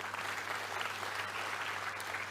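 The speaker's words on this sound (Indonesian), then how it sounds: "tepuk tangan untuk barongsai kita." A crowd applauds a barongsai lion dance performance at a public event, a dense, steady clapping heard from some distance.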